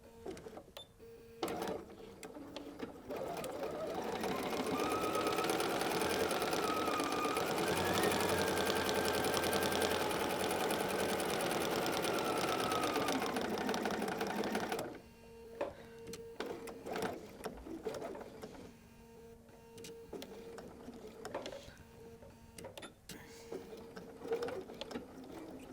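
A sewing machine back stitches a flannel rag quilt, a steady mechanical whir lasting about ten seconds in the middle with lighter clicks and handling noises before and after.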